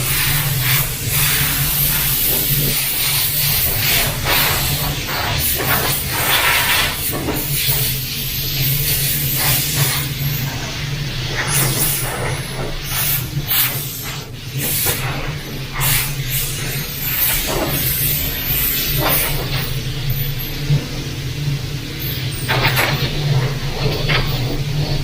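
A compressed-air stack gun blows over car paint panels in a body shop, a long continuous hiss with shifting bursts and spurts as it sweeps across the surfaces, steady and fairly loud throughout.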